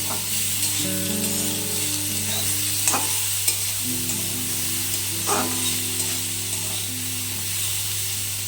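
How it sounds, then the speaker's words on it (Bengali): Chopped brahmi greens crackle and sizzle in hot oil with potatoes, stirred now and then with brief scraping strokes, over a low steady hum. "ব্রাহ্মী শাক দিয়ে আরও তিন চার মিনিট মতো ভেজে নেব"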